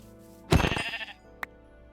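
A single Minecraft sheep bleats once, a short wavering bleat heard up close, followed by a tiny click, with quiet game ambience around it.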